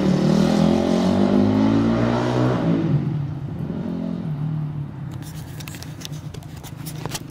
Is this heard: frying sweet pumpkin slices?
no